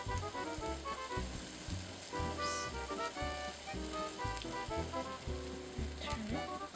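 Onions sizzle in a hot pan as they are stirred, with a soft frying hiss sitting under louder background music that plays throughout.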